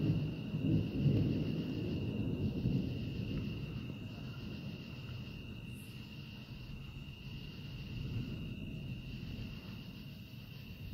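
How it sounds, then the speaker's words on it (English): Distant thunder during a pop-up thunderstorm in Oklahoma, a low rolling rumble that swells early then fades, with a steady insect drone alongside. "and then I thought I heard thunder."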